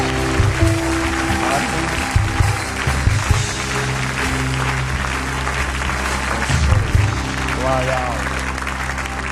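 A church congregation claps along in steady bursts, loud and close, mixed with sung or chanted voices and a band playing throughout.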